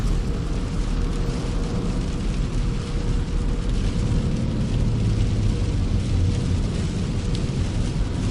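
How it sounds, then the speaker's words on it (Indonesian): Heavy rain drums on a car while it drives along a toll road at night in an Indonesian horror driving game, a dense, constant roar lasting throughout with a low rumble under it and no talk. "Duh, deras banget nih hujan."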